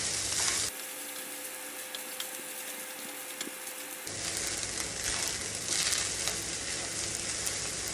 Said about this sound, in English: I'm gonna add in my rice. It's not going in for long because I've already cooked it. But I'm just gonna fold it in